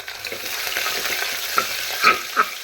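Moong dal and green chilies frying in a pan for rice upma, a soft crackling sizzle with light stirring scrapes and a few sharper pops near the end.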